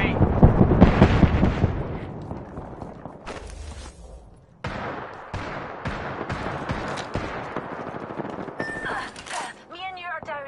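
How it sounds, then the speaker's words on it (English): Video game gunfire from hostile bomb bots, bursts of shots and impacts crackling through a busy mix, loud at first then in rapid clusters, with a player talking over it. "Bomb bots are shooting at me."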